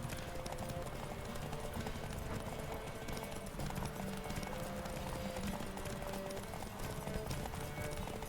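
Roach the horse gallops in The Witcher video game, rapid steady hoofbeats clip-clopping throughout at moderate loudness, with faint speech in the background.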